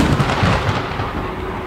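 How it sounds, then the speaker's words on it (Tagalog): Thunder from a strong storm rolls as a deep, rumbling roar with a few sharper cracks at the start, loud and close, then settles into a sustained low grumble. "At tulad nga ng banta ni Luis, dumating ang malakas na bagyo"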